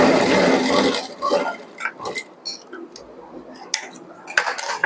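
A sewing machine runs along the edge of a blouse where the fabric meets its lining, a dense whirring burst at first, then lighter ticks and clicks of fabric handling, close by.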